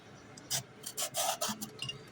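Ridge gourd peel being cut into large pieces with a knife on a board, giving a handful of short rasping, scraping cuts in an uneven rhythm, close and fairly clear with no voices.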